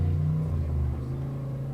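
An autocross race car's engine revs with a deep, rumbling exhaust note, heard from a distance as a steady throaty drone that eases slightly.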